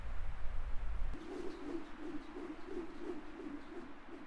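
A flock of birds in a murmuration, heard as a soft repeating coo that starts after a second of low rumble and pulses steadily and faintly at a moderate distance.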